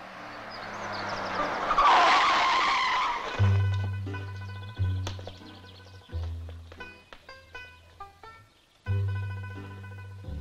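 A car engine roars and tires skid in a 1967 French film scene: a loud screeching skid builds and fades, then the engine revs in repeated sharp bursts separated by short pauses, with no talking.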